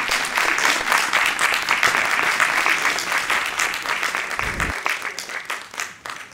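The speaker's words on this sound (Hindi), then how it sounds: "एक बार अपने लिए जोरदार तालियां बजाएं।" An audience at a book launch in Chandigarh breaks into sustained, loud applause, dense clapping filling the room and tapering slightly toward the end.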